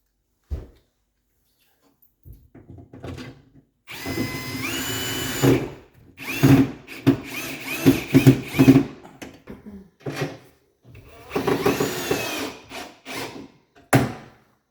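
A power drill drives wood screws to mount an Inateck CXC01-36-900 range hood, sounding as several loud, close whirring bursts of varying length separated by short silences.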